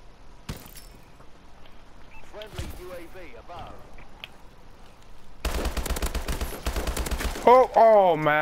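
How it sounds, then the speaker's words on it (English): Shotgun fire from the video game Call of Duty: Advanced Warfare: a sharp early blast, scattered game effects, then a loud rapid burst of repeated shots near the end. "That stupid shotgun thing, man."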